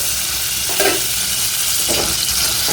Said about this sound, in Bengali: এবার দিয়ে দেবো সেদ্ধ করা রাঙা আলুটা সামান্য নেড়ে চেড়ে নামিয়ে নেব